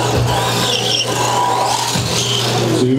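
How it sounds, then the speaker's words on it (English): A WLtoys 124019 RC off-road buggy whines around an outdoor track, its small electric motor buzzing steadily and rising and falling in pitch as it speeds and turns, fairly close and uninterrupted. "the car still seems to be getting around the track pretty good"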